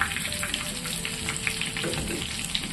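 Prawns deep-fry in hot oil with a few curry leaves for crispy Prawn 65, giving a close, continuous crackling sizzle with scattered sharp pops throughout.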